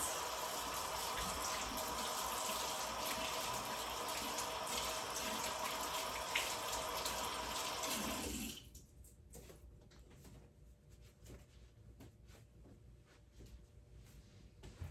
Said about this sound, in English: remember to wash your hands, especially if you're using eggs